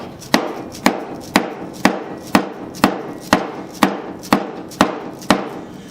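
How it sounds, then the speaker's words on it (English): Hammer driving nuts into a wooden tool box: a dozen evenly spaced sharp knocks at a steady rhythm, close and loud, with no talking. "it's easier just to drive them home with a hammer"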